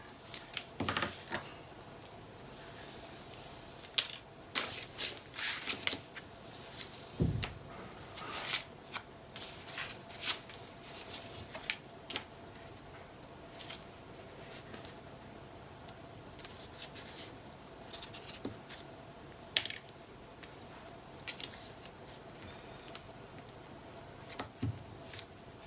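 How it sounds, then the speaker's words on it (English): Adhesive tape, 5/8 inch wide, is pulled and pressed over a magnet on a paper craft panel, making faint, scattered crinkles, rips and taps with quiet pauses between them. "I'm using 5/8 inch tape to cover my"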